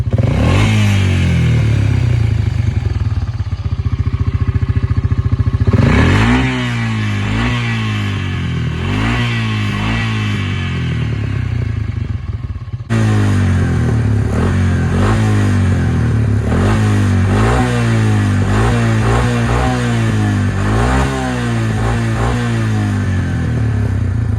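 A quad engine revs repeatedly with a raspy, throaty modified exhaust, rising and falling pitch in bursts, loud and close with a brief pause midway.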